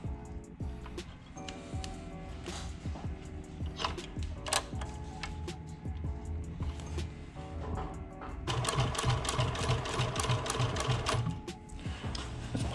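Double needle sewing machine stitching a sneaker upper for an Air Jordan 1, running in rapid ticking bursts with brief pauses at turns, then a longer fast steady run near the end, close and fairly quiet.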